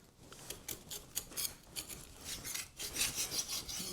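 A metal scraper rasps blown, damp-damaged plaster off a wall, a run of quick, close scraping strokes with gritty, brushy texture that grows harsher and denser toward the end.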